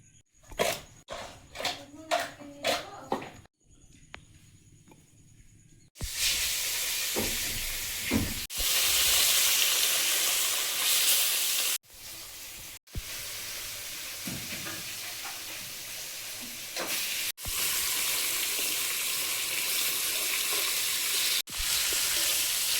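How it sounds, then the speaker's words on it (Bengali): Fish coated in salt and turmeric frying in hot oil, a loud dense sizzle that runs nearly continuously with brief gaps, preceded by a few sharp knocks and a quiet stretch. "মাছটা লবণ হলুদ মিশিয়ে ভেজে নেব গুঁড়ো"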